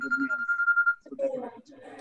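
During an online medical teaching session, a phone gives a steady electronic ring for about a second, then a person starts talking.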